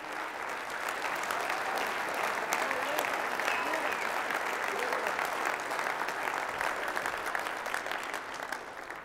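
Keynote audience applause, a dense, sustained wash of many hands clapping from a large crowd, steady and loud throughout with no pause.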